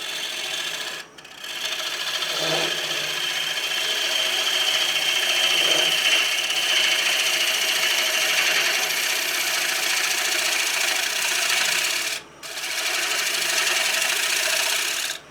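A square wooden platter is hollowed out on a lathe with woodturning tools, giving a continuous close, loud scraping rasp that stops briefly twice before carrying on; no one speaks.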